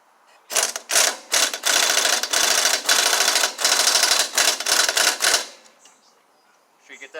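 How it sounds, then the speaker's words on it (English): A ratchet clicks in fast bursts while tightening the flywheel nut on a Briggs and Stratton engine, with close, loud, crisp ratcheting strokes separated by short pauses, then the sound stops and it goes quiet. "Then we're going to tighten it down"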